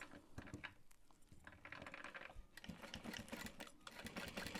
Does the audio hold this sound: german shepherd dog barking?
no